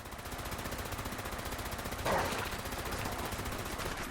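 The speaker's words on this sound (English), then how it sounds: "And turrets kicking in behind me." Automated turrets firing in the video game Fallout 76 give off a rapid, steady stream of shots, a continuous machine-gun rattle at moderate distance.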